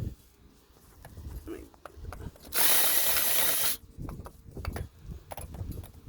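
A single loud burst of a power drill boring into wood for a carpenter bee trap, lasting about a second, with quieter talking and handling noises before and after.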